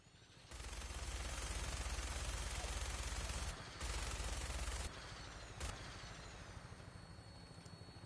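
Sustained automatic gunfire roars in Fallout 4, a dense, loud burst of rapid shots lasting about three seconds. After a brief gap comes a second burst of about a second, then a single sharp shot over lingering ambient rumble.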